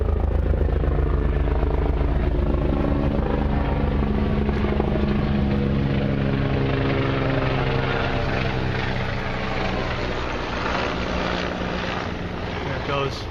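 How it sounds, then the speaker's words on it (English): A big helicopter passes overhead, its loud, steady rotor thrum and engine drone dominating throughout and easing slightly toward the end, with wind buffeting the microphone. "We got a big chopper flying overhead."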